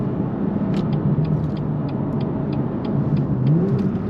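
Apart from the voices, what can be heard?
BMW M2 LCI car engine and whistling turbo while driving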